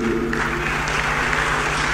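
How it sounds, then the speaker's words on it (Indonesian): A crowd at a debate event with presidential candidate Ganjar Pranowo and Rocky Gerung breaks into dense, sustained applause that fills the whole moment, with a faint hum underneath. "Tepuk tangannya meriah."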